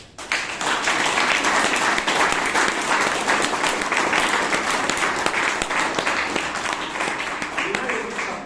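Audience at a Bangalore Toastmasters meeting bursts into loud, sustained clapping, a dense roomful of hands that starts abruptly and keeps going strong, with some voices mixed in.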